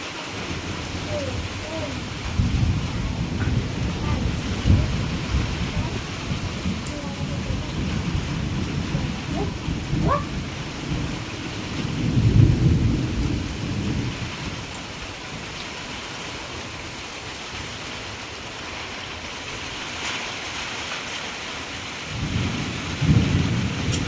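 A thunderstorm rolls over a house with an open-sided veranda: low thunder rumbles build and fade repeatedly over steady wind and rain hiss, with a stronger roll near the middle and another at the end.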